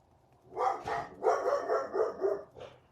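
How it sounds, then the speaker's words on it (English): Several dogs barking in a quick burst of repeated barks, close and fairly loud, ending with a short final yip. "Dogs go crazy."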